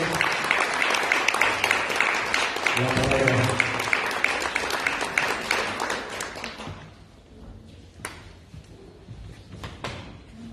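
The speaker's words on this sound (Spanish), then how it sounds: "démosle un fuerte aplauso a Armando Briones" A church congregation claps loudly for a guest speaker, a dense round that thins and dies away after several seconds, leaving room noise and a couple of sharp knocks.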